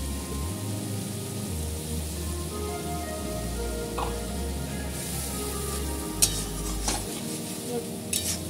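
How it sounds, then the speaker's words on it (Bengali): Spice masala for coriander katla fish curry being stirred and sautéed in a pan, a low continuous sizzle under scraping stir strokes, with a few sharp metallic utensil clinks near the end. "এবার ভালো করে পুরো কষিয়ে নেব।"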